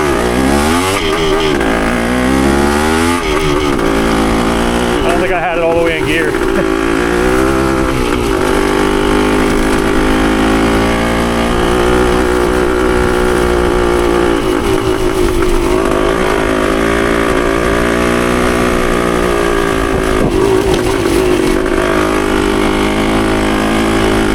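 A Yamaha CT3 175 motorcycle engine drones loud and close throughout a ride, its steady pitch rising and falling gently with the throttle.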